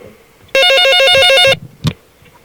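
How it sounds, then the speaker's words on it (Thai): Loud incoming-call ringtone on a telephone, a bright pulsing electronic melody of about eight quick beeps lasting one second, followed by a short thump and quiet room noise. "แล้วมีสายเข้ามา"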